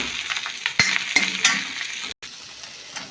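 Onions go into hot oil in a pan for a potato curry, giving a bright, steady sizzle with a few sharp clinks from a spoon stirring, close and clear.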